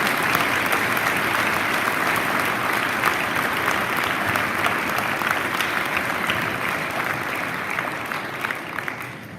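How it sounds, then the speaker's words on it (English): A large audience at a high school Veterans Day program claps steadily and loudly for several seconds, a dense wash of applause that thins slightly toward the end. "Can we give a round of applause to thank the members of our school community?"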